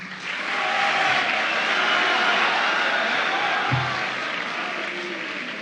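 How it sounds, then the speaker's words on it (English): An audience at a school student council debate applauds steadily, a broad wash of clapping that swells quickly and holds for several seconds before easing slightly. "Can we get a round of applause for all of them?"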